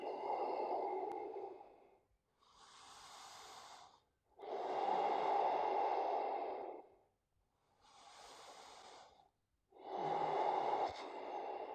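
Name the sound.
yoga practitioner breathing in a posture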